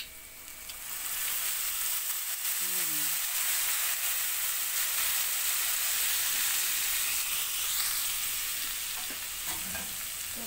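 Vegetables frying in a pan as soy sauce is added, a steady sizzle with faint stirring scrapes, moderately quiet and without any talk.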